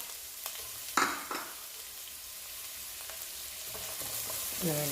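A large cut onion sautés in coconut oil in a frying pan with a soft, steady sizzle, broken by a few close clicks and scrapes from stirring.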